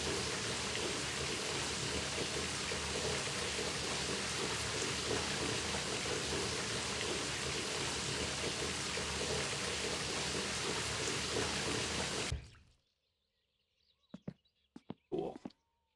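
Steady, dense rain hisses loudly in the video game My Summer Car, then cuts off abruptly, leaving near silence broken by a few faint clicks and knocks.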